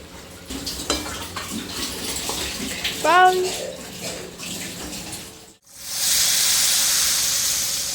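Water splashes and hisses into a hot pan of masala-fried baby potatoes for dum aloo, a steady rushing pour that fades out briefly, then returns as a loud, continuous hiss.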